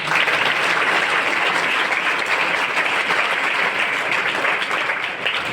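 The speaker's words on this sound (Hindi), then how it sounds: "उस अपलेन के लिए एक बार जोरदार तालियां" Loud, continuous applause from an audience at a business meeting, dense clapping held at an even level for several seconds.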